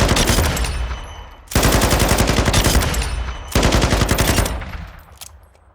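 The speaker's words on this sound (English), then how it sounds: "With this machine gun, you've got options other than speed." A belt-fed machine gun with a 150-round belt fires in Modern Warfare II, loud rapid sustained bursts in three long strings separated by brief pauses, with no talk.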